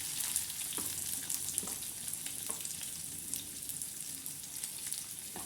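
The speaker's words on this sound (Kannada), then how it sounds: "ಈರುಳ್ಳಿ ಹಾಕ್ತಾಯಿದ್ದಾರೆ" Onions sizzle in hot oil for a home-cooked bitter gourd palya, a continuous, fairly quiet crackling fry with small pops scattered throughout and no voices.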